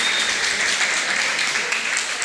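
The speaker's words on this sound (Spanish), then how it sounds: "me regalan un aplauso para ella nuevamente" An audience claps for several seconds at a lecture session on electoral law, a dense steady patter with no voices on top.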